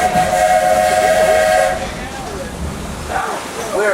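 A loud steam locomotive whistle on the Walt Disney World Railroad blows a sustained chord, then cuts off into steady hissing and chuffing steam, with faint voices underneath toward the end.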